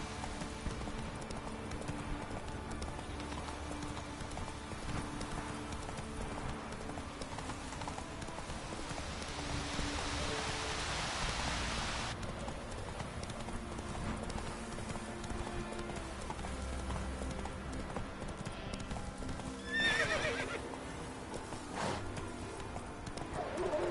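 Roach the horse gallops in The Witcher 3, hoofbeats drumming in a quick, steady clip-clop rhythm under ambient wind and game background, continuing for the whole stretch with a brief swell partway through.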